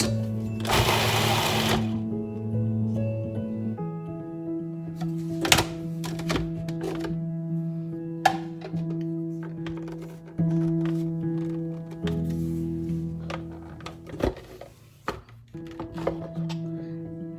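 Ingredients finely chopped for seekh kebab, heard as a loud, steady motorized whir that stops and restarts several times, with sharp clunks and rattles between the bursts.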